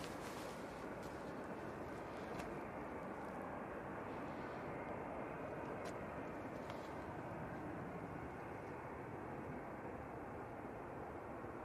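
Airplane on final approach at Manchester Airport, heard as a steady, broad engine roar that holds level throughout with no talk over it.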